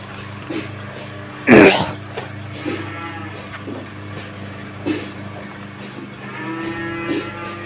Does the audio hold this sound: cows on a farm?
yes